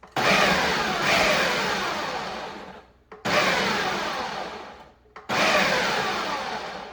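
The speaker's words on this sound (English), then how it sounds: "I'm just gonna pulse it a couple times and let it become rice" A food processor chops cauliflower and carrot into rice in three long loud pulses, each a whirring roar with chopping texture that winds down before the next burst starts.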